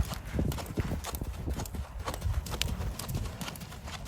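A Spotted Saddle Horse named Henry moves in a gaited running walk during training, its hooves beating in a quick, even four-beat clip-clop, close and steady throughout.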